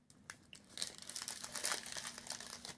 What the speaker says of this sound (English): got one here, let's give it an unwrap